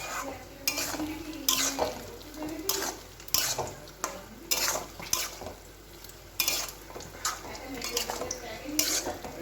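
Spatula scraping and clattering in a pan as banana flower curry, a vegetarian mochar ghonto with ground cardamom and garam masala, is stirred, with repeated bursts of metal-on-pan strokes over a soft sizzle.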